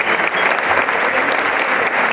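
Loud, dense applause from an audience at the XXIII Premios Internacionales Gaviota 2018 awards ceremony, a steady wash of clapping hands filling the hall without pause, close and continuous.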